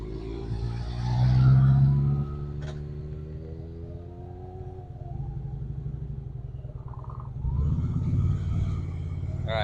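A motorcycle engine idles and revs as the throttle is raised during a low-speed practice session, rising in pitch, easing, then revving again, with a person talking over it.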